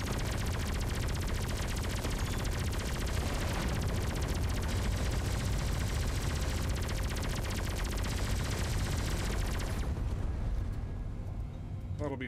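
Enemy turrets in the space-combat game Everspace 2 fire in dense, continuous rapid bursts, loud and relentless, with booming impacts layered under them before the barrage suddenly cuts off near the end.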